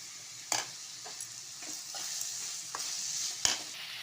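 Tomatoes sauté in a pan for a crab gravy, a soft steady sizzle broken by a handful of crisp spatula scrapes and taps, fairly quiet and close, with no talking.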